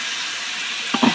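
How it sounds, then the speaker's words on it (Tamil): Tomatoes fry in a pan for biryani with a steady sizzle and hiss up close, then a couple of brief scraping stirs near the end. "இப்போ பெரட்டுறோம்"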